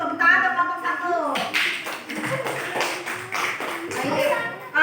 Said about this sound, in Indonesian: Tepuk tangan ke kelompok 1